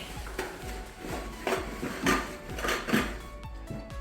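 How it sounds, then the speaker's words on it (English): Metal cutlery and a bowl clatter as they are packed into a cooking pot for a hiking backpack, giving a run of close, light clinks and knocks with no talk. "Always try and save as much space as possible by putting your cutlery in your pot, or sometimes the bowl will fit in"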